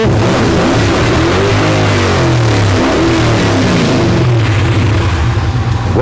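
A modified Dodge Challenger muscle car, built to roughly 700–800 horsepower, fires up and revs hard, its loud, deep engine roaring steadily and close by with no other sounds.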